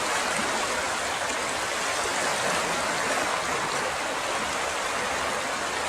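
A noisy river flows steadily beside the woods at night, a dense, unbroken rushing of water close by that fills the whole stretch without pause.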